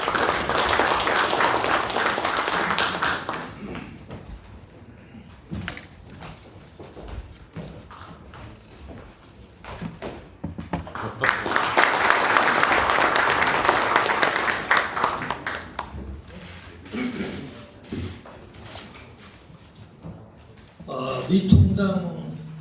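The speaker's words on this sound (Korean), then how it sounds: "큰 박수 부탁드리겠습니다." Applause at a seminar audience, bursts of many hands clapping in loud swells that fade between them, with talk and shuffling noise in the quieter gaps.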